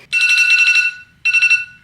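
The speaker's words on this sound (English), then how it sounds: "I am just going to set an alarm for 3 minutes." A phone timer alarm rings in loud, bright, rapid electronic pulses, one longer burst followed by a brief gap and a shorter second burst, close and clear with nothing else over it.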